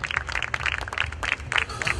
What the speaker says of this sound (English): Huge round of applause for all these young budding people.